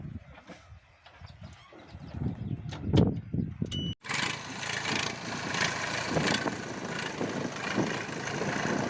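A loaded tractor engine chugs and idles at a village farm during cauliflower harvest, rumbling steadily before pulling away, with birds and farmyard roosters audible around it.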